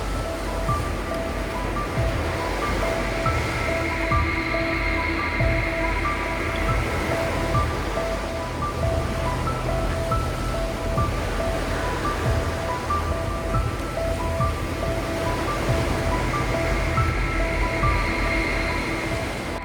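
Gulf ocean waves breaking steadily at a beach beside a fishing pier at night, a continuous loud wash of surf with rolling surges and no talking.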